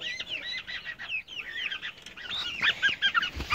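Fluffy silkie chickens, among them a black one, keep up a busy stream of soft, close clucks and chirpy calls, growing louder and more crowded toward the end.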